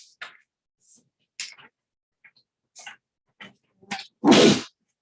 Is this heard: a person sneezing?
yes